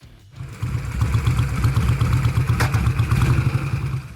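Norton Classic Rotary, a 1980s British rotary-engined motorcycle, running with a steady, fast, slightly clattering engine note that holds at a constant loud level throughout after a brief quieter start.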